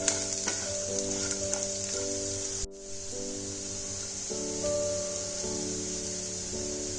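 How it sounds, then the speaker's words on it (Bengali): Potato and cauliflower filling for Bengali samosas frying in a pan, a soft continuous sizzle with a brief scrape, under sustained background music tones. "সবজিগুলো অনেকটাই ফ্রাই হয়ে এসছে"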